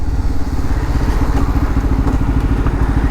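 A TVS Ntorq-style N250 motorcycle engine runs steadily up close, a loud, throbbing low pulse with a fast, even firing rhythm and no voices.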